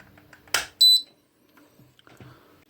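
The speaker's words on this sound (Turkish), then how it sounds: "buzzer'ın sesini duyuyoruz" A brief high electronic beep from a Vestel air conditioner circuit board buzzer rings out after a sharp click, with faint clatter around it and no speech.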